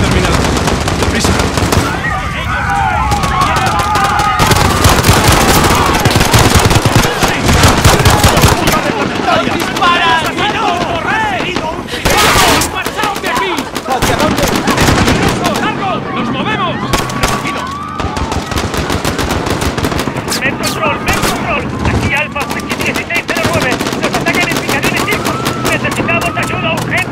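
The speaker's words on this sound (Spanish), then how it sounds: "¡Se han producido disparos!" Rapid bursts of gunfire in the Call of Duty: Modern Warfare (2019) campaign, machine-gun rattles and scattered shots, loud and sustained, with shouted Spanish voices mixed in throughout.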